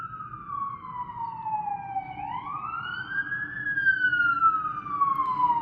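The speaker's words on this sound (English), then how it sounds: "This time the cop car went right underneath my window." A police car siren passes right beneath a window, its loud wail sweeping down, then rising and falling again over a low traffic rumble, with no voices.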